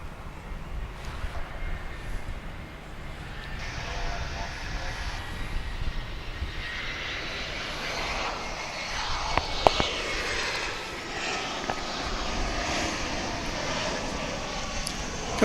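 An arriving airliner at DFW International Airport approaches with a steady, broad jet engine roar that swells gradually. It rumbles continuously as a commentator talks over it.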